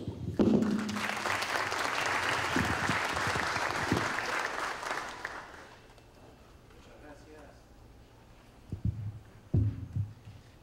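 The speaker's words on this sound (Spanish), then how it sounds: "un fuerte aplauso" Audience applause fills the first half, dense and steady, then fades out; scattered thumps and low rumble follow as a room settles at an evening political panel discussion in Peru.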